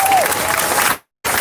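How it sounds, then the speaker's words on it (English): A short burst of crowd applause at a solidarity march rally in Denver, loud and close, cut off abruptly by a brief silence before clapping resumes. "Josh Battles, give him another round of applause."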